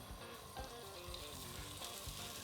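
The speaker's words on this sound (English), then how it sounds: "And you can hear it already sizzling there." Carnitas meat sizzles steadily in a hot pan with about a tablespoon of oil, a close, even frying hiss with faint crackles and no talk.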